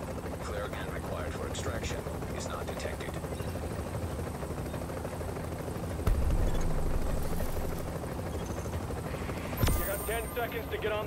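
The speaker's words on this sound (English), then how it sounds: "Okay, we're putting the chopper down." An evacuation helicopter sets down in The Division, its rotor wash a dense steady roar with a couple of sharp impacts, while radio voices and game chatter run over the top.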